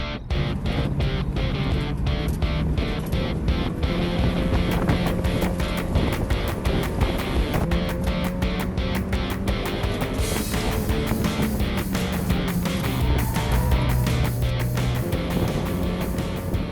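A motorcycle laps a race track, its engine a continuous close roar that rises and falls in pitch through gear changes, with steady wind rush throughout and no talking.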